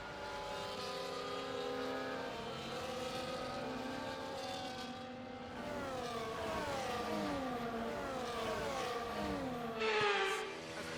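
F1 24 race cars on the formation lap at Miami, engines droning and rising in pitch as several cars accelerate and shift, a steady layered whine close by with no talk.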